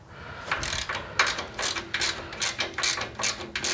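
A Harbor Freight breaker bar with 1/4 and 3/8 drives ratchets on the carburetor of a Cub Cadet tiller with a Honda GC160 engine, giving a steady run of close, crisp clicking bursts, with no talk.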